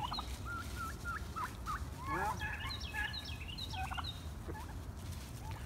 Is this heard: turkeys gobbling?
yes